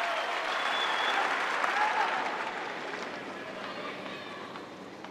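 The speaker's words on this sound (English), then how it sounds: "Listen to the crowd." Tennis crowd at the 2008 US Open semifinal applauding steadily at a set point, a broad continuous wash of clapping that holds loud then gradually eases off.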